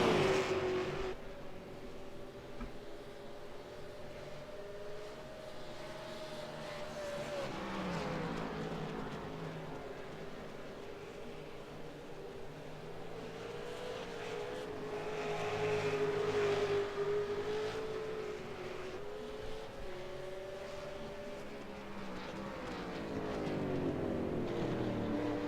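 V8 Supercar race cars lapping Mount Panorama in the iRacing sim, engines droning and rising in pitch through the gears for the whole stretch, steady and fairly loud with no talk.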